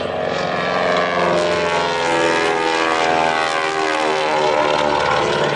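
A Beech 18 twin-engine propeller plane flying aerobatics roars loudly and steadily overhead, its engine note droning and wavering slightly as it maneuvers.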